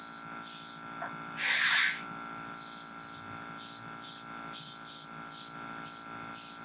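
An airbrush sprays color onto a decorated dinosaur cake in a series of short hissing bursts of varying length, separated by brief pauses, close and clear.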